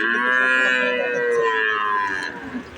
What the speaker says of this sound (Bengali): এটা আমাদের দেশীয় গরু তাই না ভাই